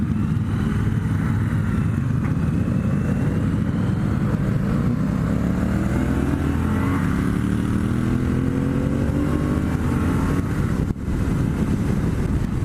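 A Triumph Bonneville T120 cruiser engine pulling steadily on an open road during a group ride, a continuous loud drone with rising and shifting tones as it accelerates through gears, buffeted by constant wind rush and no talk.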